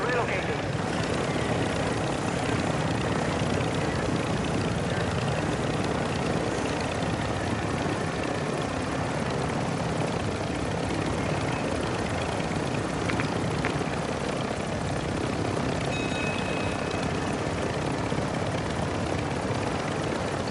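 A helicopter in the video game Call of Duty Warzone 2 gives off a constant rotor and engine drone throughout, with players talking over it.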